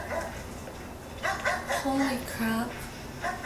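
An injured dog in a TV show whimpers and yips in short high whines, several brief cries in the middle, heard under people talking and reacting.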